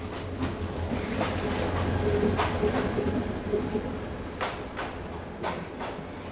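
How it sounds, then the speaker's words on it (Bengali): The Brahmaputra Express, a red and green train, rumbles at a station with a low steady drone and occasional sharp clanks and knocks, moderately quiet and without talk. "এই সেই লাল সবুজের ব্রহ্মপুত্র এক্সপ্রেস।"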